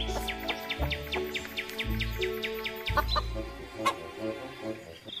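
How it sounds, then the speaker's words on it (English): A hen clucks in a quick series of short, chirpy calls over a bouncy children's song backing, the clucks repeating rapidly and fairly close. "H for hen."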